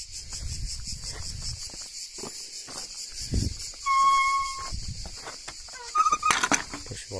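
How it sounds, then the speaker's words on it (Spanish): Cicadas or crickets buzz steadily along the Camí de Cavalls coastal trail on Menorca, a dense high-pitched drone throughout with a brief louder burst partway through and footsteps and rustling beneath. "No sé si son grillos o cigarras, como que son cigarras"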